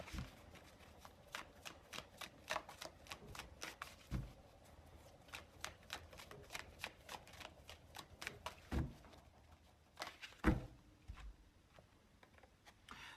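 Tarot cards handled and drawn from a deck, giving a quick series of soft close card snaps and flicks, then a few sharper taps, with near silence between them and little talk.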